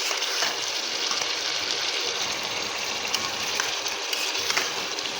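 Chicken korma cooking down in a pan gives a steady, dense sizzle of frying with faint scraping from stirring, even and close throughout with no pauses.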